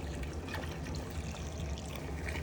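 Water drains from the drain pipe of an LG washing machine into a bucket, a steady continuous pouring trickle heard close up with no talk.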